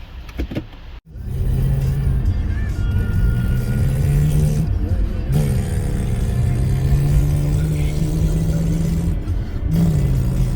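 A Subaru's engine is revved hard and repeatedly, a loud sustained roar with rising and falling pitch sweeps, briefly cut once near the start and dipping again around the middle, close to the microphone.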